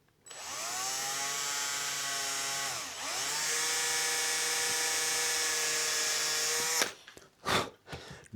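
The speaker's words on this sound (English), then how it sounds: "Drill in with a little tape flag so you don't go all the way through" A power drill whines steadily at high speed while drilling holes in a Gretsch 6120-style guitar headstock, briefly dipping in pitch midway, then stops, followed by a few short clunks and handling noises.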